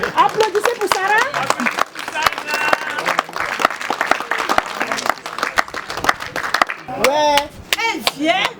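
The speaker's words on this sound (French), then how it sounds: "Applaudissez pour Sarah." Guests at a traditional wedding clap together in a dense, lively burst while voices and cheers rise through the crowd, with speech and calls heard over the clapping throughout.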